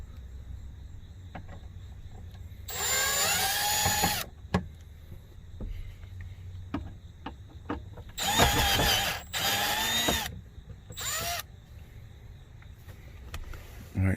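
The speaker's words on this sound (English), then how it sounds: "we're going to take out the two screws from up under the steering wheel." Cordless power tool backing out Phillips head screws from under the steering wheel of a 2006 Dodge Ram 1500, several short high whirring bursts separated by pauses and small clicks and clatter, close by.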